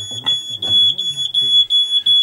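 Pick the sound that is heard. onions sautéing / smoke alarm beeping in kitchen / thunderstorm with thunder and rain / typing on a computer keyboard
smoke alarm beeping in kitchen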